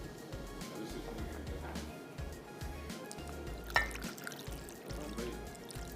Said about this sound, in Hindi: उसमें डालेंगे पानी, पानी में इसको भिगो देंगे।